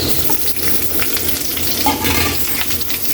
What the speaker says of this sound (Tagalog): Kaili, mainit na yung mantika, ilagay na natin yung bawang.